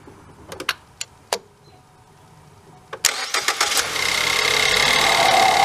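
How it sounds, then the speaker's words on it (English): A 2014 Ford engine is started after a few clicks and a short starter whir, catching with a burst and settling into a steady idle close by. "so we're going to fire it up and just make sure we don't have any leaks"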